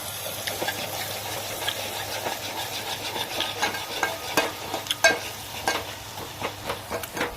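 Steady crackling sizzle of a garlic and onion tempering in a hot pan, with repeated scraping strokes of a spoon stirring through it; no voices.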